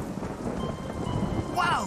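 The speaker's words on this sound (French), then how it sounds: "Avec cette tempête, on ne va jamais pouvoir" A thunderstorm rumbles with a loud, close roll of thunder over steady rain, the rumble swelling across the span and a brief higher whooshing sound near the end.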